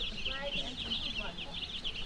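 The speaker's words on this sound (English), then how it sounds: "We have chicken special for eggs, and this chicken is special for meat." Farm chickens, kept for eggs and meat, clucking faintly in short broken calls amid steady high insect-like buzzing and outdoor background noise.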